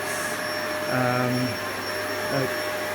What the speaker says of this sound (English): finish up there, vacuum those bees.